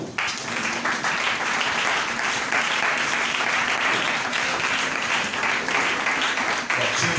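A church congregation claps and cheers in praise, a dense, sustained wash of applause that keeps up without pause for several seconds from many people in the room.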